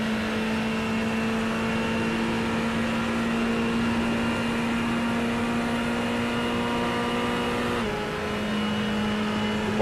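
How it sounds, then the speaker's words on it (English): A race car engine in a sim racing game holds a steady, high droning note as the car laps a banked oval. Near the end the pitch dips briefly, then settles. There is no talk over it. "Oh, that engine is just so nice around this banking."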